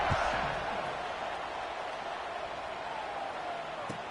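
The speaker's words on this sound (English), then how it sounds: "this crowd is buzzing after that last score" A College Football 26 video game stadium crowd buzzes after a score, a steady broad roar throughout with a few brief thuds, under a commentator talking.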